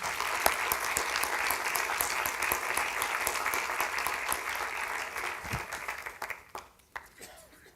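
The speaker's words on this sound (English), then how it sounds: "Let's give them a big applause." Audience applause at an international scientific symposium on biomolecular sensing, a dense, steady clapping from a sizeable crowd that carries for several seconds and then thins out into scattered final claps near the end.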